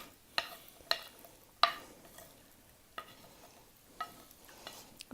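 Sautéed napa cabbage and wild fennel are scooped from a pan into a serving bowl, sharp scraping and clacking strokes at irregular intervals over a faint background sizzle, close by.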